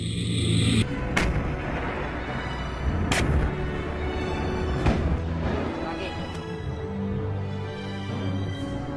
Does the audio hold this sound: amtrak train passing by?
no